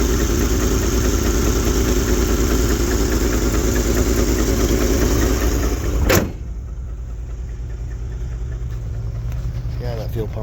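A 1971 Lincoln engine runs steadily with a loud, continuous idle; partway through the tone shifts abruptly to a lower, quieter running sound that continues to the end.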